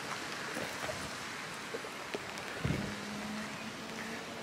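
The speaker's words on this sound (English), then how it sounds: "We're struggling with the rain now." Rain falls outdoors on the grounds of the Shugborough Estate, a soft, steady patter and hiss with a few sharper drops and a faint passing rumble.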